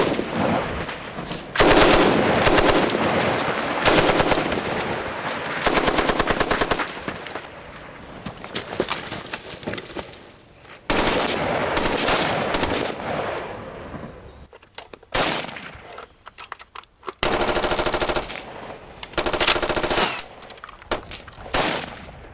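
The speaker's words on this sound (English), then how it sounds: "what are you shooting at?" Sustained machine-gun fire rattles through a movie firefight scene, loud, dense bursts running almost continuously with brief gaps, mixed with scattered rifle shots and no talking over it.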